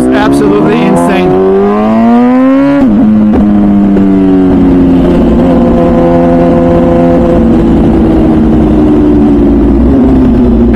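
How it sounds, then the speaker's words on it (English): MV Agusta Brutale 1000 RR naked superbike with a full titanium exhaust at the Nurburgring, its engine revving up loudly and continuously, the pitch climbing then dropping and settling into a steady, raspy drone close to the microphone. "It's absolutely insane with that full titanium aero exhaust"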